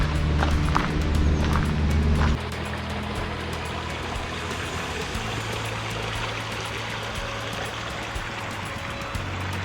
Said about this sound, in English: Definitely the Green Valley Campground waterfalls place